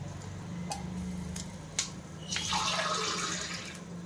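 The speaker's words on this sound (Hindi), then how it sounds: "तो देखिए, हमने पानी ऐड कर दिया है इसमें।" Water pours into a pot while making dhokla, a rising splashing rush that swells for about a second and a half after a few scattered clicks and knocks in a quiet kitchen.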